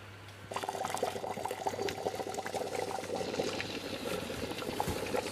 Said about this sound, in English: go ahead and pour your water over the side